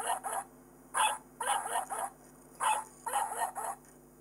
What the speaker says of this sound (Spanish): Y el perro hace...